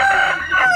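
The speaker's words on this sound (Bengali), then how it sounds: "মোরগ, বার্মিজ মোরগ কিভাবে ডাকছে দেখছেন?" A Burmese rooster crows at a local market in Myanmar, giving one short, loud, nearby call with no other sound.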